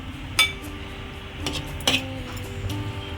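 A spoon scrapes jackfruit seed halwa out of a pan, making three distinct metallic clinks spread over a few seconds against a quiet kitchen background.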